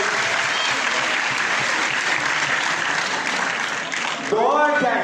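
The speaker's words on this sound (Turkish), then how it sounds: "sevgililer kendini bir alkışlasınlar" Sustained applause from an audience fills the space evenly from start to finish, a dense continuous patter of many hands, with a voice cutting in briefly near the end.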